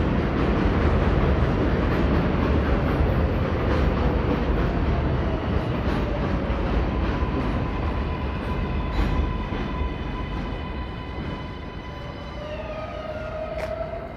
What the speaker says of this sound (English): Up ahead is the 7 train.